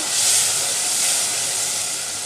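Chili paste for a jackfruit seed and prawn curry fries in a pan, giving a steady, loud, broad hiss that holds evenly throughout with no talking.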